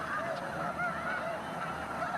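Tundra swans in a Sacramento Valley winter wetland give a steady chorus of overlapping honking calls, a flock heard at moderate distance with no voices.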